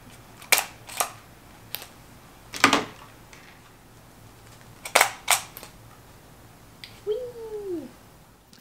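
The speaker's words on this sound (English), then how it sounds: "And then I take the gun and I stick it through the hole." Plastic tag gun punched through a plushie's ear while packing orders, several sharp close clicks spaced a second or two apart, followed by a short squeaky sound near the end.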